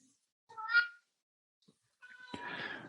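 An elderly 17-year-old female cat lets out two meows indoors, a short rising cry followed after a pause by a longer, louder, rougher one, close to the microphone.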